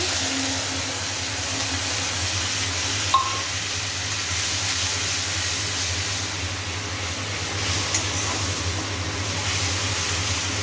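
Tomato added to hot oil in a pan after fish has been fried with nigella seeds, giving a continuous loud hissing sizzle close by, with a faint low hum underneath and no talk.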